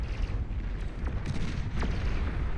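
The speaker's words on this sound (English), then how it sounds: "Ooh, beautiful explosion right here." Explosions rumble in a Beyond All Reason 8v8 deathmatch, a dense low roar of blasts and booms with a few sharp cracks cutting through, loud and continuous with no voices.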